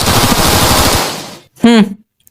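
A burst of rapid animated gunfire fills the first second and a half in a parody cartoon fight scene, dense and loud, then fades before a short ringing hit or ricochet tone.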